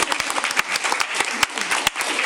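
Brief, close clapping from a small audience at a school district board meeting, with individual sharp claps standing out in a steady patter.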